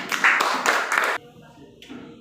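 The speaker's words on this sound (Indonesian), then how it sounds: "Tepuk tangan." A classroom of students claps hands together in a short burst of brisk, loud claps lasting about a second, then falls quiet with faint voices and a few scattered taps.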